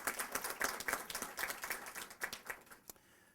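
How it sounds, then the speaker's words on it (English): An audience applauding at a county press event honouring a police chief's retirement, a dense patter of clapping that thins out and stops near the end. "if we can give Angela also Brooks a round of applause"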